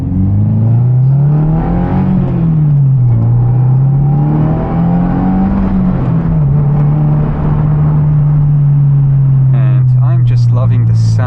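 A 2022 Subaru WRX engine heard from inside the car, droning loudly under acceleration, its pitch rising and falling through gear changes before settling into a steady hum, with someone talking over it.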